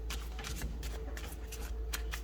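Playing cards being shuffled repeatedly, quick crisp riffles in a steady rhythm close by.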